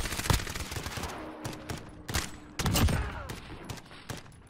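Gunfire crackles in a Search and Destroy video game match, several sharp, loud shots spread irregularly across the moment, some in quick bursts, with no talking.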